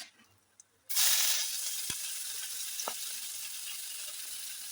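Chopped onion and chili dropped into hot oil with cumin, bay leaf and whole spices, bursting into a sudden loud sizzle that settles into a steady close hiss, with a couple of faint utensil clicks.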